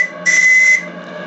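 A short, loud steam whistle blast from a model steam setup with a donkey pump, lasting about half a second, close and piercing over a steady hiss.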